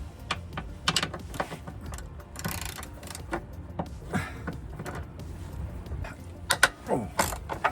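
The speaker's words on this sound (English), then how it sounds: "let's have a go at getting this compressor unbolted." A ratchet working on the bolts of a Porsche Cayenne air suspension compressor, irregular bursts of clicking and creaking metal close up with short pauses, no talk.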